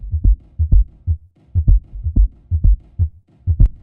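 A house bass line sample, pitched down one semitone, with deep, rounded bass notes pulsing in a syncopated, repeating groove; loud, dry and alone, with no talking.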